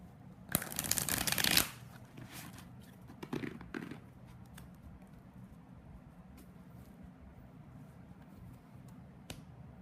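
Tarot cards being shuffled close by, a loud dense riffle for about a second, then a shorter softer shuffle, followed by quiet handling taps and near silence.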